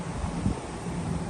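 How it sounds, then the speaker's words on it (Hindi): Strong outdoor wind buffets the microphone in a steady, loud, low rush over a short stretch, with no voices. "आज सुबह से बहुत ज़्यादा हवा चल रही है तेज़।"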